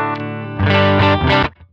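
Electric guitar played through a POD Go's Fender Princeton amp model with the drive turned up: a single sustained, driven chord rings loud and alone with a warm, slightly gritty tone, then cuts off abruptly.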